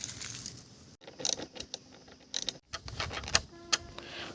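Allen bolts come out of the pillion seat of a Bajaj Pulsar AS200 motorcycle, with faint, irregular metallic clicks, clinks and ratcheting from close by and no talking.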